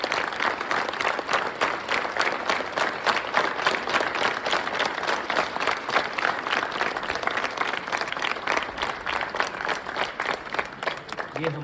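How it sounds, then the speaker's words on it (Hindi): Sustained applause from a school audience welcoming a national ICT award winner, dense, steady clapping that holds at an even level for the whole stretch, with no talk over it. "उनकी उपलब्धि के लिए हम स्वागत करेंगे तालियों के साथ"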